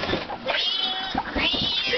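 A person imitates a cat, voicing several drawn-out meows and yowls in quick succession, close and fairly loud, with wavering pitch like a real cat's caterwaul.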